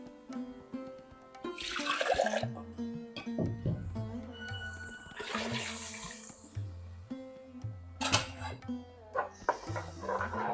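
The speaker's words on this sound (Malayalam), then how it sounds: "ഇതിനകത്ത് കുറച്ച് വെള്ളം ഒഴിച്ച് കഴുകി ഒഴിക്കേ" Water splashes and pours in bursts into a vessel of rice being washed, with swishing and a few clinks between pours.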